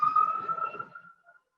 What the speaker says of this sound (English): Sorry, an ambulance is going by.